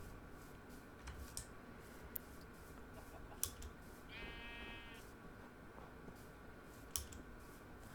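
Minecraft sheep give a short, wavering bleat midway through a quiet scene, alone against faint ambient hiss and scattered soft clicks.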